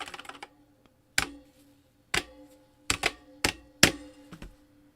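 Keys clack on an old keyboard with spring switches, a quick flurry of strokes followed by several sharp, separate presses spaced about a second apart, close and clear in a quiet room.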